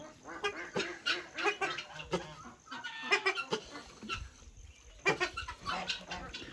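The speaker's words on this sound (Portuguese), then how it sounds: "Lá tem um macho de ganso do Egito." Waterfowl and poultry call at a farm aviary where a male Egyptian goose is kept, giving a string of near honks and cackles mixed with other birds, fairly loud and irregular.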